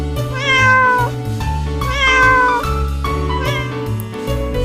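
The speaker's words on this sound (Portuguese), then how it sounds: "gato" A domestic cat meows several times in drawn-out, rising and falling calls, close and clear over a steady musical backing.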